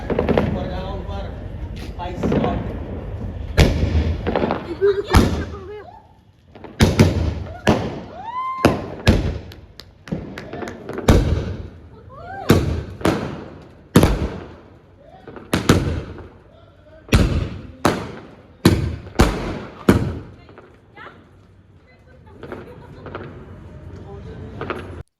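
Firecrackers going off outdoors during a celebration, a long string of sharp loud bangs that come in uneven bursts and sometimes overlap, with people talking and calling out in between.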